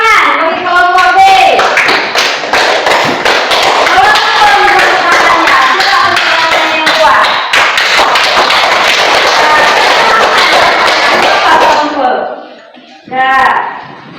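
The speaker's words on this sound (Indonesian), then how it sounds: "Tepuk tangan bagi kelompok B." A classroom group claps for group B with a dense, continuous flurry of hand claps that runs for about twelve seconds and then stops abruptly, with voices talking over the clapping.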